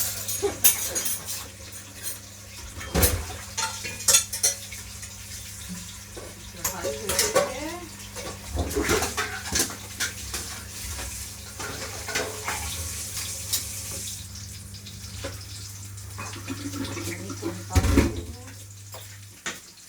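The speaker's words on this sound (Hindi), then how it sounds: "देखिए 5 मिनट के अंदर बर्तन हो गए।" Dishes being washed under a running kitchen tap, with steady water flow and intermittent clinks and scrapes of utensils throughout, fairly close and moderately loud, with no talking.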